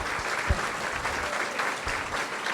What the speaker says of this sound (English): I just want everyone to give a wonderful round of applause to James.